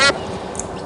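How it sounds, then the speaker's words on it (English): Duck quacking in the video game Escape From Monkey Island: one short, loud nasal quack at the very start, followed by low background sound. "It's a rather unspectacular duck."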